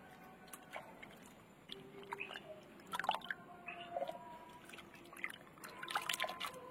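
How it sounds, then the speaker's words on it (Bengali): Sliced potatoes being washed by hand in water for chips, with faint trickling, dribbling and splashing as the slices are rinsed repeatedly, soft and close with scattered small drips. "ভালো করে করে বারবার ধুতে হবে যতক্ষণ না পরিষ্কার জল বেরোবে"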